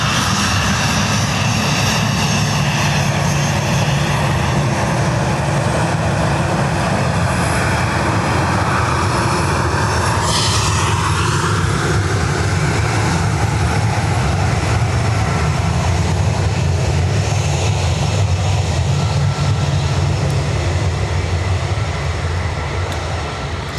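A departing airliner bound for Edinburgh roars as it takes off from Dublin Airport, its jet engine noise loud, broad and sustained throughout, swelling and then slowly shifting as the aircraft climbs away.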